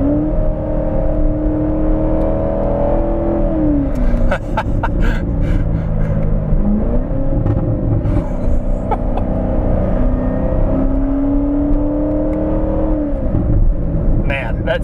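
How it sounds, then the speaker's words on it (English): A Chevy Corvette ZR1 engine pulls steadily while driving, its tone rising and falling through gear changes, heard from inside the car under light interior noise with a person talking over it. "Oh, the sound is amazing. It sounds like a supercar."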